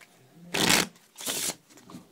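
A normal 54-card deck of playing cards shuffled close up: two short riffle bursts in quick succession, crisp and fluttering, with faint handling noise around them.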